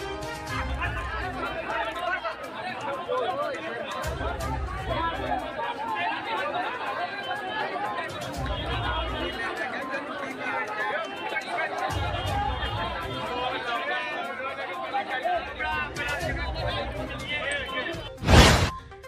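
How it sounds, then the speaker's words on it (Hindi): Crowd chatter inside the packed Deepprabha cinema hall before a KGF Chapter 2 screening: a steady babble of many voices filling the room, with occasional thumps and a sharp slam near the end. "पूरा दीपप्रभा सिनेमा हॉल भीड़ से खचाखच भरा हुआ है"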